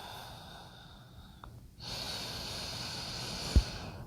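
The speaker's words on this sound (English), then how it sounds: "Deep and slow conscious breathing." Deep, slow conscious breathing during a yoga flow held in downward facing dog: a long, soft, airy breath that swells into a steadier rush, with one brief sharp snort near the end.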